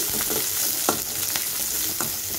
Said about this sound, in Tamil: இதெல்லாம் சேர்த்து ஃபர்ஸ்ட் நல்லா வதக்கிக்கோங்க.